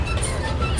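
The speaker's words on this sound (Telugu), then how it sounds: "బ్యూటిఫుల్ రైలు బండి" A children's ride train running at an outdoor exhibition ground, a loud, steady rumble of wheels and motor close by, with no talking.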